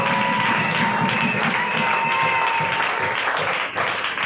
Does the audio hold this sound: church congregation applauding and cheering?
yes